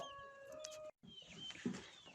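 Chickens cluck and call softly at a distance amid outdoor village farmyard noise, with a brief dropout partway through.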